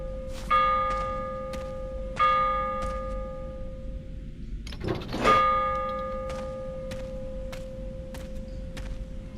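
Bells ring in a scary video game demo, three separate struck peals with long shimmering decays, the last following a brief rustling clatter, then a sustained ringing tone lingers underneath.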